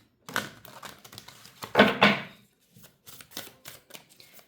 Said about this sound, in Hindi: Now again the 3 cards I am shuffling from these deck